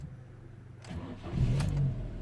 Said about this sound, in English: I'm going to try to stop and start the car